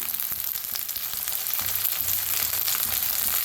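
Corn kernels and cashews sizzle and fry steadily in a hot pan, a continuous close crackle with scattered pops and no talking.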